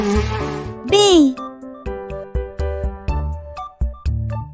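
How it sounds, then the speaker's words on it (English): A bee buzzes in an educational animal-sounds clip: one swooping cartoon-style buzz near the start, followed by a series of jingly musical notes. "Bee."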